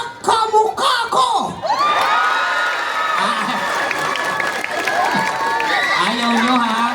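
A pageant audience at a Miss Gay contest cheers, whoops and shouts loudly, the crowd noise sustained and close, with a host's voice briefly at the start and excited shrieks rising over the din.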